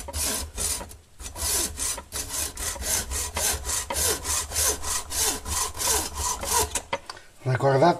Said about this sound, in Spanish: el siguiente paso ya es cortar con sierra por la marca que hemos realizado.